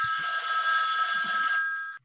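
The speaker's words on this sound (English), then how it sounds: "Oh, that's an American phone." An American telephone rings with one steady electronic trill lasting about two seconds, fairly close and alone, before stopping abruptly.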